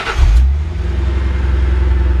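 A 1956 Ford F-100 pickup's fuel-injected V8 engine idles with a deep, steady rumble after a brief louder surge at the start, close by and without talk.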